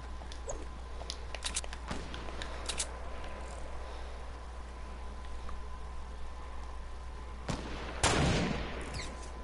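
Sniper gunfire in Fortnite, a few distant sharp shots and scattered crackles over steady game background noise, with one louder report near the end.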